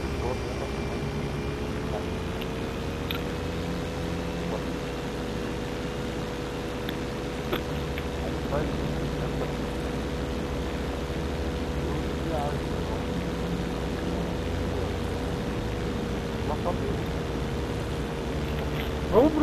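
Airplane flying in the online mode of GTA V: a steady, even engine drone with a low propeller-like hum that holds at constant loudness for the whole stretch.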